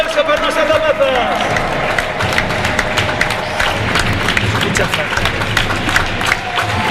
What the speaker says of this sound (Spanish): Forte aplauso para nosas rapazas.